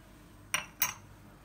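A metal spoon clinks twice against a bowl while mixing sandwich filling of pepper, salt and cream cheese; two short, crisp taps close by in an otherwise quiet kitchen.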